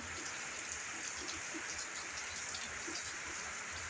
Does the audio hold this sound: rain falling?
yes